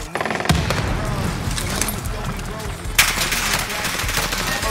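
Rapid automatic gunfire from the video game Call of Duty Warzone crackles continuously at close range, with a louder burst midway and a voice talking over it.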